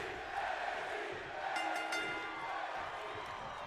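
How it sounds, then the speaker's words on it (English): A steady roar of an arena crowd cheering during a WWE 2K22 wrestling video game triple threat tables match, holding at an even level throughout with brief swells. "Crumbreon getting the crowd pumped up here"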